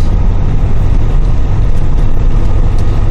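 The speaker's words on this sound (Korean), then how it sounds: "바깥에서 들었을 때 엔진 소리도 좋은 것 같거든요." A Hyundai Mighty 2.5-ton truck's modified diesel engine runs steadily nearby, a loud, constant low rumble with no talking.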